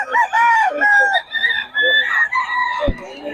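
A bullstag gamefowl rooster at a backyard fowl farm crows and clucks loudly and close, in several rising, wavering calls with brief pauses between them.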